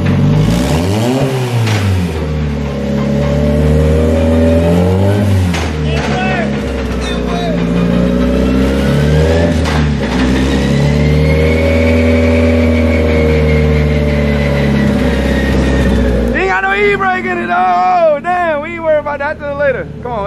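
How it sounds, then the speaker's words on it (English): A car engine running with a slight tapping noise, idling and revving in rising and falling waves up close, with voices talking over it and busier noise near the end. "Well, she running. Got a little tapping noise up there, but she alright."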